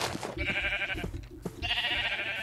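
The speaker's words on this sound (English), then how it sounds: "Why are you attacking the sheep?" A Minecraft sheep lets out two clear, nasal bleats, one after the other with a short pause between, fairly close and with no talk over them.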